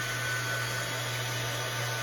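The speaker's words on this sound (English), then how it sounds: "Okay, I'm going to run the dryer." A hair dryer blows to dry paint on a craft project, a loud, steady whirring hum that runs unbroken for the whole stretch and is heard alone.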